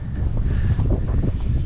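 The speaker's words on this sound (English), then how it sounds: "Sorry if it's a bit windy." Strong wind buffets an exposed microphone outdoors on a farm after a flash flood, a loud low rumbling roar with gusty fluctuations, continuous over the short span with no talking.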